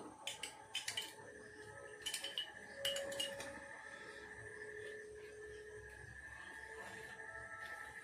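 A spoon clinks and taps against a glass while mixing food colouring into water, several quick bright chimes in short bursts followed by a lingering ringing tone, close but quiet, with no talk.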